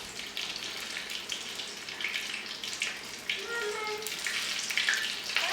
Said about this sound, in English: basically what you want to do is just let the tortilla fry